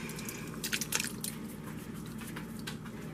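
Undrained Italian-style diced tomatoes going into a pot of chicken chili, heard as a soft, wet squelching and dripping close by, faint and brief with no talking.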